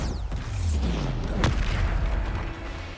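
A Bombarda spell explosion in Hogwarts Legacy, a deep booming blast with a sharp crack near the middle, over a continuous rumbling game din and falling whooshes, with no talking.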